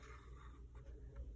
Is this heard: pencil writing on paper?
yes